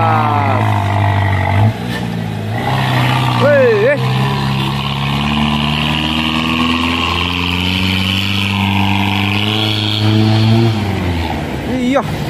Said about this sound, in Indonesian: ada Hino ya teman-teman, 500 menanjak, muatan berat